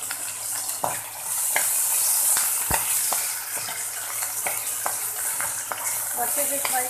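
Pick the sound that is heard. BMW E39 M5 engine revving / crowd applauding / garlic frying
garlic frying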